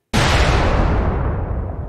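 A sudden, violent blast erupts as the Chernobyl nuclear reactor explodes, a loud, abrupt boom that rolls into a long, dense rumbling roar.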